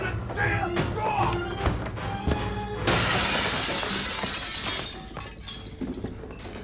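Glass shattering in a TV show scene: a loud burst of breaking glass with scattering fragments in the middle of busy, dramatic sound, with brief voices nearby.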